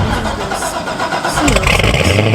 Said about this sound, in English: I know it's a Corvette, but I forgot which one it is.